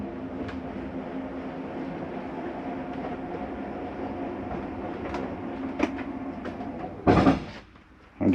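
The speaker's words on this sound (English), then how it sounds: "It's going to bring in our kitchen slide." The kitchen slide-out on a 2016 Coachman Catalina 293RLDS RV retracts with a steady, low motor hum and rumble for several seconds. It ends in a louder, brief clunking grind as it seats fully in, then goes quiet.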